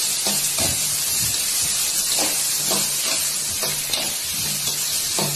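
Steady sizzling and hissing of onions, garlic and curry leaves sautéing in hot oil, with periodic stirring clatter, loud and continuous with no talking.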